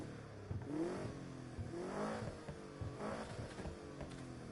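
Car engine revving and accelerating in the Need for Speed Heat racing game, a steady engine drone with rising and falling pitch sweeps over several seconds, fairly loud and without talk.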